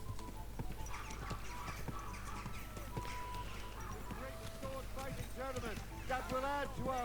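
Horse hooves clip-clop at a walking pace in Kingdom Come: Deliverance 2, a steady rhythm of soft thuds near the listener under ambient game sounds, with brief tonal effects and chirps.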